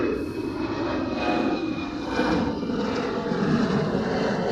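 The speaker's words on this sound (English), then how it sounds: "that's a heck of an aircraft" Military jet aircraft passing at a Hawaii airfield, likely an F-22 or F-35, a broad continuous engine roar swelling and easing slightly, fairly loud and distant-sounding with no talk.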